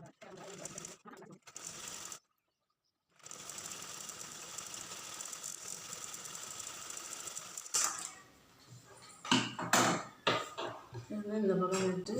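Sewing machine stitches the lining of a blouse in bursts of rapid mechanical clatter and whir, near and moderately loud, with pauses and handling noise between runs.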